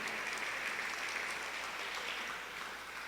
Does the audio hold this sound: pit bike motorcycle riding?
no